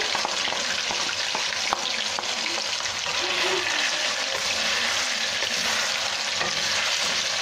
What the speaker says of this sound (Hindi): अच्छा सा फ्राई करेंगे और कलर चेंज होने तक हम इसको भून लेंगे।